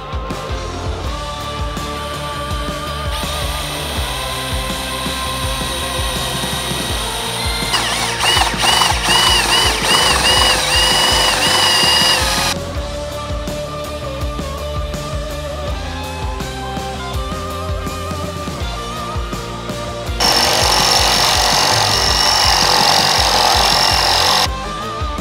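A power drill with bits and a hole saw cuts holes into the roof of a 2022 Toyota Tundra Crewmax, loud close whirring in long sustained runs broken by shorter pauses and a final burst.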